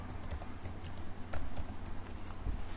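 Computer keyboard typing while coding JavaScript, a scattered run of light key clicks at irregular pace, close but fairly quiet, with no speech over it.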